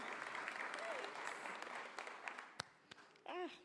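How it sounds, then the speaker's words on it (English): An audience applauds at a college presidential inauguration ceremony, a steady, moderately distant clapping that runs almost the whole time and then breaks off, followed by a brief voice. "we just gave you a round of applause"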